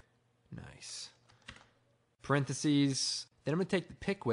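Light clicks of typing on a computer keyboard come in short bursts, mixed with a person speaking close by.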